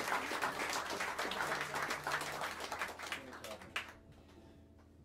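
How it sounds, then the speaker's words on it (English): A jazz club audience applauds with brisk, fairly faint clapping over a low background, tapering away after about four seconds. "Please, a wonderful, wonderful round of applause to the very talented Mr."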